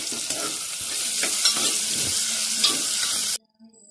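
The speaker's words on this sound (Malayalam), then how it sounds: "ഇനി നമുക്കതിലേക്ക് പച്ചമുളകും ആവശ്യത്തിനുള്ള ഉപ്പും ചേർത്ത് നല്ലതുപോലെ വഴറ്റിയെടുക്കണം." Shallots, green chilli and salt stirred and sautéing in a pan for a beef curry, a loud close sizzle with spoon scrapes throughout that cuts off abruptly near the end.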